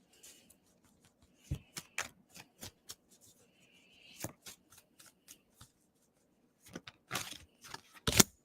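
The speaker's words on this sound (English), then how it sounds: "let's shuffle for you real quick" Tarot cards are shuffled by hand up close, giving scattered soft flicks and riffling snaps in irregular bursts, with a few louder riffles toward the end.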